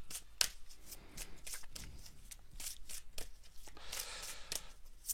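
Tarot cards handled and laid out for a three-card spread, giving soft close papery slaps and flicks in an irregular quick rhythm at low volume.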